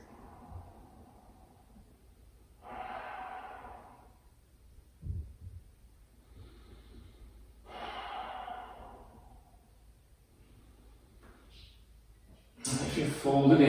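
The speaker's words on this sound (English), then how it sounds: "Last few breaths here." Slow, deep breathing during a yoga flow, with two long, soft exhales spaced several seconds apart over a quiet background and a brief louder rustle at the end.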